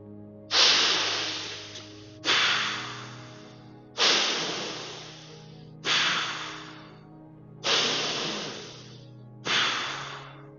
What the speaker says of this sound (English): these breaths will be intentional, filling up and emptying out.